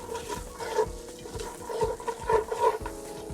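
Onions and hard vegetables for rice and beans cook in a pan, giving a soft sizzle with light stirring scrapes in close, irregular bursts, quiet and without talk.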